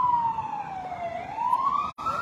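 An ambulance siren wails in a slow rising-and-falling sweep at a street scene outside a circus, loud and steady, with a brief dropout near the end.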